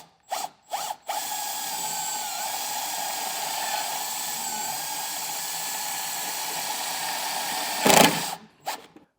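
A power drill drives small self-tapping screws to mount a fifth-wheel and gooseneck trailer wiring plug on a 2020 Chevrolet truck. A steady high-pitched whir runs for several seconds, framed by short clicking bursts at the start and end.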